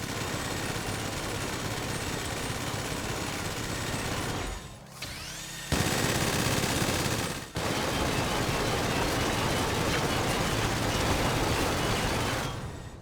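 A minigun firing in GTA 5, a loud unbroken roar of rapid shots that cuts out briefly for a second or two and then resumes at full, steady intensity.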